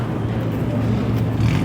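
A Japanese JDM car's engine and exhaust at the Osaka Auto Messe load-out give a loud, steady, close rumble, a deep droning idle with a slight rise near the end.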